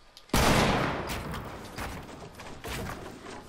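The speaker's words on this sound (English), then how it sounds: "They're getting shot." Gunfire in the Fortnite video game, a burst of rapid shots opening sharply and tailing off, followed by another volley near the end, fairly faint with no talk over it.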